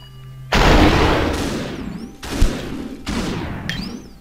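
Gunfire in a shooter video game: three loud, sharp shots, each with a long, echoing decay, including a headshot kill, with no talk.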